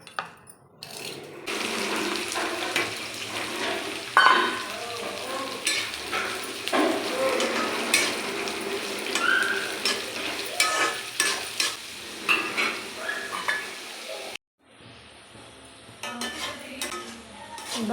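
Spices dry-roasting in a thick, wide pan, stirred steadily with scraping and light clinks of a utensil over a soft continuous sizzle, with a brief pause before the stirring resumes.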